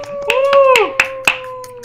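A few sharp hand claps close to the mic at an online building contest, struck one at a time over a bright, steady held tone.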